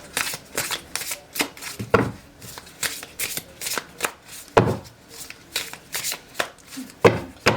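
Tarot cards are shuffled by hand in a steady run of crisp, riffling slaps and flutters, close and fairly loud, with no talking over them.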